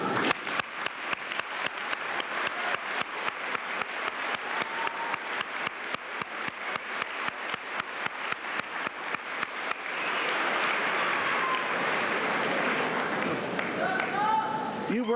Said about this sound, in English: Would you join me, please, with a round of applause for our graduates?